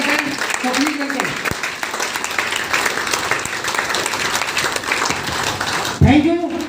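Audience applause at a plan presentation event, sustained dense clapping from a crowd lasting several seconds, with a voice speaking over it near the start and end.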